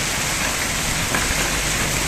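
Heavy rain pours down in a dense, loud, unbroken hiss while the downpour keeps strengthening, with no voices over it.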